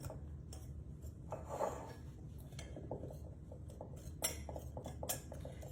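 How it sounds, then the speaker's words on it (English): Dry muffin ingredients, flour with salt, are whisked in a bowl for lemon blueberry muffins, giving quiet raspy scraping and light metallic clinks of the whisk against the bowl in an uneven rhythm. "So I'm going to whisk all of those dry ingredients together."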